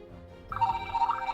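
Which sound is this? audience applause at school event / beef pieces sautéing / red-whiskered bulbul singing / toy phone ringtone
toy phone ringtone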